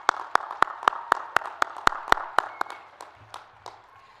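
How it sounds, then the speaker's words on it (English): Steady rhythmic clapping from an audience at a Bradley University commencement ceremony, fairly close and evenly paced, with the beats thinning and softening toward the end. "applause for that."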